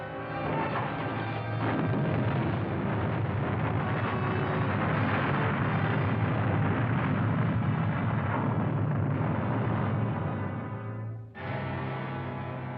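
A submarine fires a salvo and a sustained, rumbling explosion follows, loud and continuous for about eleven seconds before a brief drop and a fresh roar.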